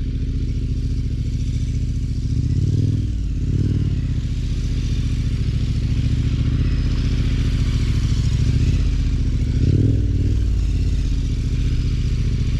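A motorcycle on Mitas E07 tyres turns standing circles, leaned right over on the tyre edge, its mid-pitched engine droning steadily with a few throttle swells and faint clatter, close and loud with no talk.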